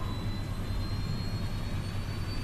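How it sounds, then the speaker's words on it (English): Second jet engine of the TACA 110 airliner spooling up, a steady loud roar with a thin high whine held throughout and no speech. "Captain Soleil is taking the steps to fire up the second engine"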